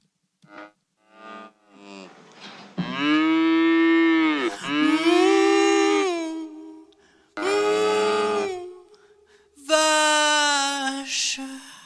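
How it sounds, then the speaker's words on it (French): A cow moos repeatedly and loudly, four long drawn-out bellows with rising and falling pitch separated by short pauses, preceded by a few brief softer sounds. "Vache."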